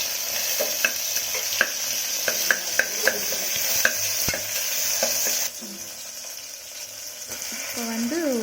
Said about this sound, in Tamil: நான் வெங்காயம் சேர்த்துக்கலாம் தக்காளி சேர்த்துக்கலாம் நல்லா வதக்கி விட்டுக்கிறேன்